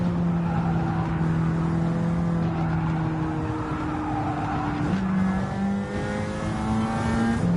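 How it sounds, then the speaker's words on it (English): A race car engine on the Watkins Glen road course drones steadily at high revs, then drops in pitch as it downshifts, with the tone climbing again afterward. "Hear him downshift right there, gets the car turned just a little bit more."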